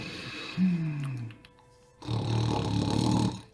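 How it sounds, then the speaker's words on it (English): Two drawn-out snores close by, the first a rumbling breath that slides downward, then a pause before a longer, thicker, more muffled snore that carries on until it cuts off. "After a moment, the snoring becomes slightly muffled."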